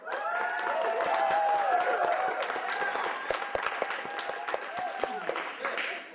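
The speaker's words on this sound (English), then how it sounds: "Let's hear your best round of applause." An audience at an outdoor Grassroots Shakespeare production of Richard III claps and cheers in a steady round of applause. It thins into distinct scattered claps toward the end.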